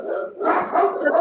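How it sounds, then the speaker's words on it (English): Several dogs bark loudly and close in a short burst of overlapping yaps and woofs, with no voices over them. "Sorry about the dogs."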